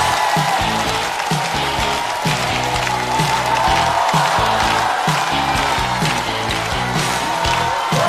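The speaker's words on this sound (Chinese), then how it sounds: "掌声欢迎胡汉。" Audience applause and cheering welcome a stand-up comedian onto the stage at a comedy competition show, a steady dense roar of clapping that fills the whole stretch, with music and crowd noise mixed underneath and no speech.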